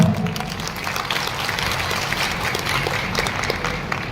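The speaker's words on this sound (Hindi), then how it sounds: "एक बार जोरदार तालियां अपने लिए, अपने लिए।" A large audience at a business seminar applauds loudly, producing a dense, continuous roar of clapping with crowd noise, steady and full for the whole stretch.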